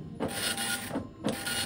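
An Apple ImageWriter II dot matrix printer printing in yellow, a loud, close, continuous buzzing rasp with the print head's sweeps rising and falling in regular passes.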